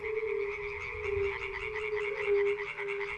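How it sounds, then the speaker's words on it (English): A chorus of natterjack toads in shallow water in the Elbe River Valley gives long, rolling, rattling calls that overlap continuously, loud and steady with no pauses. "The shallow waters in sandy areas resound with the long-lasting calls of natterjack toads"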